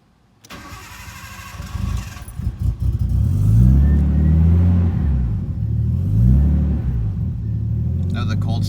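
A 1993 Nissan Skyline cranks from cold with a few rhythmic starter turns, fires up and revs in a couple of rising and falling sweeps before settling into a rumbling idle, close and loud, with a voice speaking briefly.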